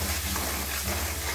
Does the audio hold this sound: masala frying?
yes